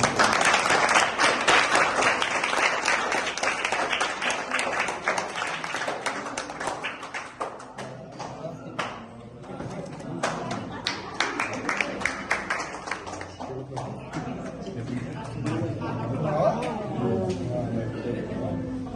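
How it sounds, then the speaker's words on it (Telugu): A crowd at a Christmas gathering claps loudly in a dense burst of applause that thins into scattered claps, with voices talking over the later part. "చప్పట్లు"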